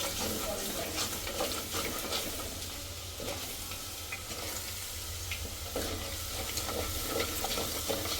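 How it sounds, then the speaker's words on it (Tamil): Garlic and fenugreek seeds frying in oil for a fish curry, a continuous moderate sizzle with scattered stirring clicks and faint watery sounds underneath, no talk. "பூண்டு வந்து நல்லா இப்போ ப்ரௌனிஷ் கலரில் ஆகணும், அது வரைக்கும் நல்லா வதக்கிக்கணும்"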